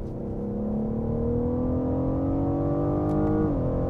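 The V12 engine of a BMW M760i revs in a smooth rising pull that settles and drops briefly near the end, like a quick paddle shift, steady and fairly loud with no speech.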